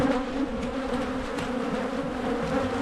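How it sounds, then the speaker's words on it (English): Honey bees buzz steadily at an opened hive during early spring colony work, a dense, close, continuous hum with no talking. "there's a bee with some pollen on her"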